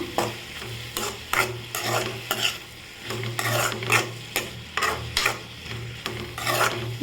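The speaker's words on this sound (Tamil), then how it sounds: "நமக்கு வெங்காயம் தக்காளி நல்லா வதங்கிட்டு இருக்குது" Onions and tomatoes with salt sauté in a pan for egg thokku, a spatula scraping and stirring in repeated strokes over a continuous sizzle, close and fairly loud, with no voices.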